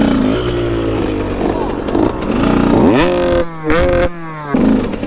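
An enduro motorcycle ridden on wet, puddled trails, its engine revving and rising in pitch with throttle bursts, close and loud, dropping out briefly between pulls.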